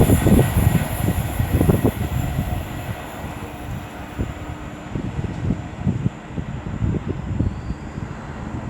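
Avanti West Coast Class 390 Pendolino unit 390 131, running from London Euston to Glasgow Central, passes at Rugeley Trent Valley on the West Coast Main Line with a loud, steady rumble and rhythmic wheel clatter.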